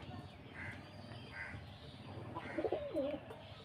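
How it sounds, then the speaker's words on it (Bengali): Pigeons at a pigeon farm give soft, low cooing calls, faint and somewhat distant, with a few murmuring coos near the end over quiet background noise. "এই যে আমার কবুতরগুলো।"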